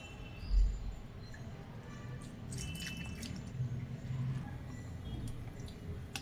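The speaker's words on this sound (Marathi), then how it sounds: "आता थोडं थोडं पाणी टाकून हे मिक्स करून घेऊयात" Gram flour batter seasoned with turmeric and a pinch of baking soda is stirred as water is added little by little, giving faint wet squishing and dripping sounds over a low steady background hiss.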